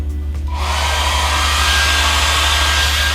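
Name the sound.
hair dryer blowing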